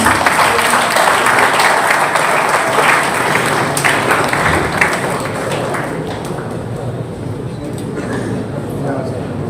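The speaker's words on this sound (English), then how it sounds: "Can we give a big round of applause?" An audience at a university conference claps in a sustained round of applause for a guest of honor, loud at first and then gradually thinning, with some talk mixed in.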